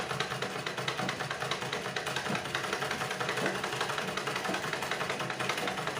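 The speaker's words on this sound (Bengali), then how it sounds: "এবার আমি আবার এই দাগ বরাবর আমি আবার সেলাই করব।" A sewing machine runs steadily along a marked line during a stitching lesson, a continuous fast rhythmic mechanical whir with even density throughout, close and moderately loud, with no talk over it.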